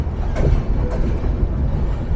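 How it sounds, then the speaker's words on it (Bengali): Panchagarh Express intercity train entering Dhaka Airport station, a continuous low rolling rumble with faint squeals, near and steady. "আন্তনগর পঞ্চগড় এক্সপ্রেস প্রবেশ করলো যাত্রা বিরতির সর্বশেষ স্টেশন রাজধানী ঢাকার বিমানবন্দরে"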